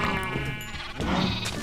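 Several Minecraft sheep bleat in overlapping, wavering cries, close and steady, forming a dense flock chorus over the game's soundscape.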